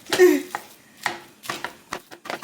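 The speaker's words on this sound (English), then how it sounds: "So this is me mashing it." Cooked butternut squash mashed by hand in a home kitchen, a series of soft, irregular squelching and tapping thuds, close and fairly loud, with brief gaps between strokes.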